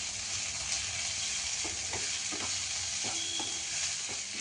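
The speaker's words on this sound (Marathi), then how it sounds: "आता ही ओला मसाला टाकते मी, अद्रक कोथिंबीर आणि लसूण याची पेस्ट केलेली आहे, त्यात टाकते" Onion and tomato frying in a pan with a paste of ginger, coriander and garlic, a steady sizzle with occasional stirring scrapes and taps, close and alone.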